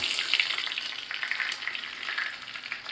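Dried red chillies and curry leaves sizzle in hot oil in a pan, a steady bright crackle with small pops, close up and with no one talking.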